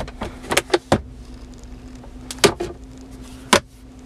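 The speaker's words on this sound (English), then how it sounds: "power locks, power windows." Power windows run in a white 2017 Chevrolet 1500 Z71 LT crew cab pickup, giving several short motor whirs and clicks spread across a few seconds inside the cabin, with a faint steady hum underneath.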